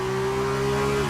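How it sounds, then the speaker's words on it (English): Race car engine revving in a Formula 2 racing video game, a steady loud drone holding one pitch before dipping slightly at the end, close and continuous with no talk. "you could just hear the engine revving on Bolt TBD"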